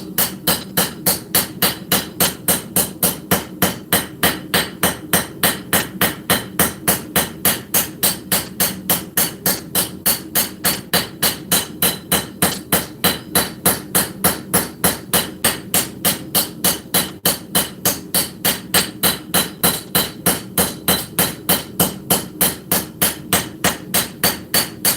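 A ball peen hammer strikes steel steadily while forging a full integral knife, with a long, even series of ringing blows at a quick, regular rhythm, close and loud throughout.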